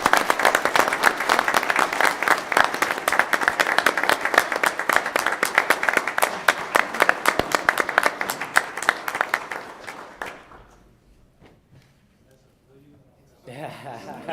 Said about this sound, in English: So round of applause for Mike